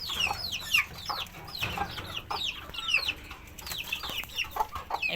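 Desi chickens, including young birds around two months old, cluck and chirp on a home balcony in a busy overlapping chorus of short calls close to the microphone.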